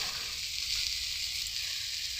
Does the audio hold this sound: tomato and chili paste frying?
yes